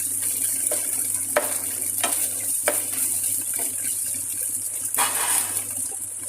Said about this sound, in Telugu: 1 టేబుల్ స్పూన్ అల్లం వెల్లుల్లి పేస్ట్ వేసి వేయించుకోవాలి